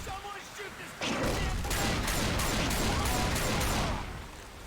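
Burst of rapid gunfire in the co-op zombie shooter Left 4 Dead 2 on the Hard Rain campaign, a dense sustained volley of shots starting abruptly and fading after a few seconds, with faint voices before it.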